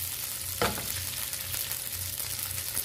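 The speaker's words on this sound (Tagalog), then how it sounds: "slightly roast ng ating giniling" Ground pork frying in a pan for a string bean dish, with a continuous close sizzle, one sharp clack of a utensil and a few softer stirring scrapes.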